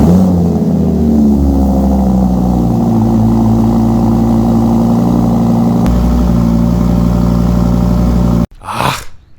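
Audi R8 Coupe 5.2 V10 570 Performance RWD engine running at a loud, steady idle close up with rising revs, cut off near the end by a short, sharp blip.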